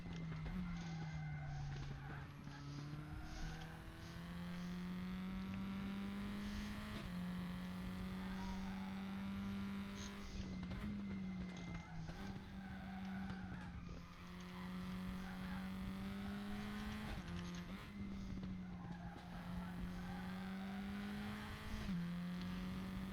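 A Tatuus F4 race car in a sim racing game on the Indianapolis Grand Prix circuit, its engine droning steadily loud and high throughout, rising and dipping slightly through gear changes and corners, with no talk.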